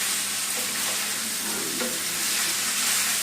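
Noodles stir frying in a pan, a loud continuous sizzle with stirring scrapes that stays close and even throughout, with no talking.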